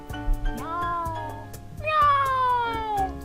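A cat in the game Dandelion: Wishes brought to you meows twice, drawn-out crying calls close up, the second louder and longer, sliding downward in pitch.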